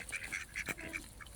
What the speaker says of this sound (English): There's the half-white goose.